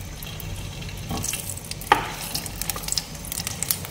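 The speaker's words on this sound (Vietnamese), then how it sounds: "Tiếp theo thì mình sẽ đi chiên lạp xưởng nha. Mình cho ít dầu ăn vào chảo." Oil crackles and sizzles as Chinese sausage fries in a pan, with scattered pops and a brief clatter as food is stirred; no talking.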